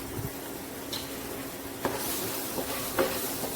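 Garlic and masala being stirred and fried in a pan for a Calicut beach-style quail egg fry, a steady soft sizzle with occasional scraping clicks of the spoon.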